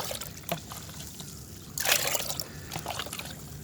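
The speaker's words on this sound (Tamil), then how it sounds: "இதை வந்து நான் வந்து ஒரு 10 மடங்கு தண்ணி ஊற்றி டைல்யூட் பண்ணிக்கிறேன்." Water poured into biochar liquid fertilizer to dilute it, a soft trickle and splash with a brief stronger gush midway and small dribbles around it, fairly quiet and close.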